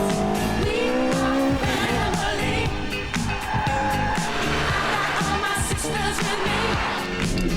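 A Lotus-era sports car driven hard, its engine roaring loudly and continuously while the tires squeal and skid through corners, no talk over it.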